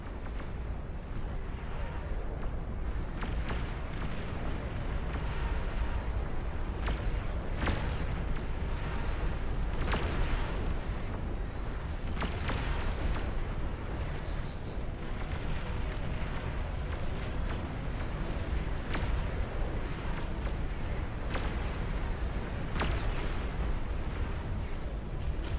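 Artillery fire and explosions from a massive-scale battle in the RTS game Beyond All Reason form a dense, continuous rumble. Repeated booms and bursts come through it, and a voice is faintly heard now and then.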